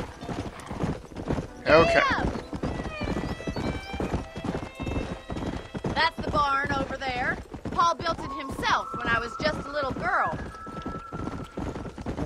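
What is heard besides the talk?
horse galloping hooves in video game Red Dead Redemption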